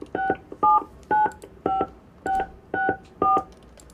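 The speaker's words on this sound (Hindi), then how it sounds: "आप पेमेंट अपने मोबाइल से 16 अंक का क्रेडिट कार्ड नंबर डाल दीजिए" Phone keypad tones as a 16-digit credit card number is entered on a mobile, seven crisp evenly spaced beeps, loud and close with nothing else heard.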